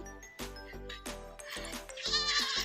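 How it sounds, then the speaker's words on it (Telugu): A young goat kid on a farm bleats several times in quick succession, nasal wavering cries close by with slight background noise. "ఇక మా మేక పిల్ల చూడు"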